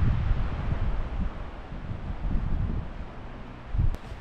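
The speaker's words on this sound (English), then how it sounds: "It's super windy" Strong wind buffeting the microphone outdoors, irregular gusty rumbling at moderate loudness with a sharper gust near the end.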